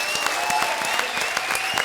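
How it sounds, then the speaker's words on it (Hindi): Studio audience on a comedy show applauding actors: a dense, continuous burst of many hands clapping at steady volume, bright and close, with no voices over it. "एक बार जोरदार तालियां इनके लिए"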